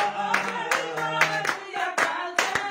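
Church worship congregation clapping in acclamation, sharp rhythmic hand claps on a steady beat over sung music, close and clear.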